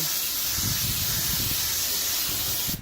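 A steady, close hiss of brake cleaner spray during an Infiniti JX35/QX60 rear brake job runs continuously throughout, loud and unbroken, with a faint low rumble beneath.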